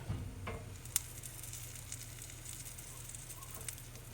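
A turkey pesto panini, cheese side down, sizzles steadily in a pan while pressed under an uncleaned cast iron skillet, with a few light knocks and clicks over the constant crackle.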